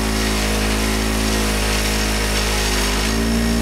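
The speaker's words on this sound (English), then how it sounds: "First cut with the black compound." A motor-driven buffing wheel with black compound polishes an aluminum motorcycle wheel, producing a loud, steady whirring hum with a rough, grinding texture underneath.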